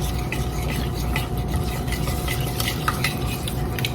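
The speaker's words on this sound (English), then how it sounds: "continue whisking" A whisk works melted chocolate in a pan in a steady, rapid scraping rhythm, close and moderately quiet, with soft clinks against the metal and no voices.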